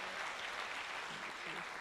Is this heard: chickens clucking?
no